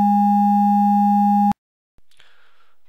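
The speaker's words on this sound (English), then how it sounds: "you should hear a high frequency component and a low frequency component" Two pure sine tones, one low and one high, sound together as a steady, loud, unwavering electronic hum for about a second and a half, then cut off abruptly and leave faint room noise.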